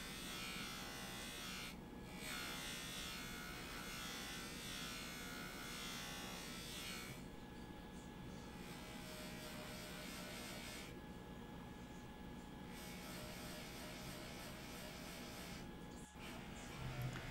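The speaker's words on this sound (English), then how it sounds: "I'm just focusing on polishing the edges of the cuff now." A polishing wheel buffs the edges of a metal cuff, giving a steady, loud motorized whir that runs throughout with slight dips in tone as the piece is worked against it.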